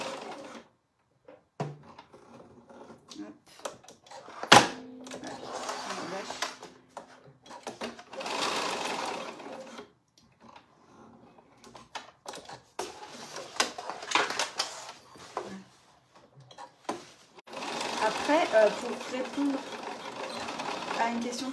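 A sewing machine stitches a cross seam on a tote bag strap in several short whirring runs separated by pauses, close and moderate, with someone talking between and over the bursts.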